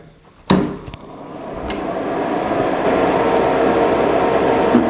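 Small 12 V 50x50 mm fan switched on with a sharp click, then spinning up into a steady whirring hum that holds close and constant.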